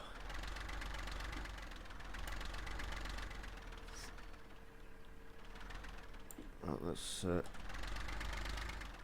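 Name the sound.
old tractor engine idling, Farming Simulator 15 video game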